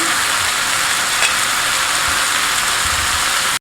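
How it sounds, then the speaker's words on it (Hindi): Coarsely chopped cabbage frying in a pan as a pizza topping, a steady loud sizzle that stays even throughout before cutting off abruptly at the end. "फिर हम इसके अंदर डालेंगे बंद गोभी बड़ी कटी हुई।"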